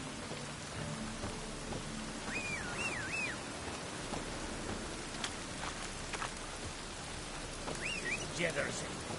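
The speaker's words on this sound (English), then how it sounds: "raining again" Steady rain in The Witcher 3 patters in a constant soft hiss, with faint whistling bird calls and a few sharper drips rising over the wash.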